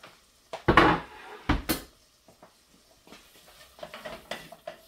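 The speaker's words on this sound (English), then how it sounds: "So you want to stir this around and get it separated so that it's all has a nice even coating of the butter." Chipped beef gets stirred in melted butter in a pan, with a few loud scraping clatters from a utensil against the pan, then softer intermittent scrapes and light sizzle.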